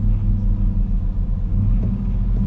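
Chevrolet Trailblazer SS engine idling rough and close, a deep uneven low rumble that wavers as if about to stall, with no talk.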